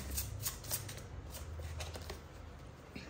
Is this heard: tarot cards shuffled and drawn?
yes